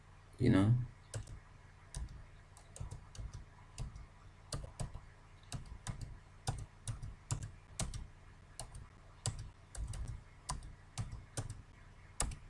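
Keystrokes on a computer keyboard as a password is entered while registering online, a steady run of close, sharp clicks in uneven bursts with short pauses between them, after a brief louder thump at the start.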